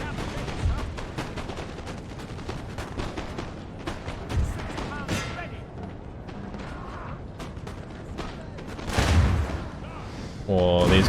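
Cannon artillery firing in a Napoleon: Total War battle as Great Britain, scattered booming reports and cracks spread across the scene amid mechanical creaks, with a heavier blast near the end.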